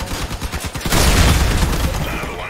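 Minigun fire in the vehicle combat game Crossout, a loud, dense burst of rapid shots that begins with separate pulses and then runs into a sustained roar lasting a couple of seconds.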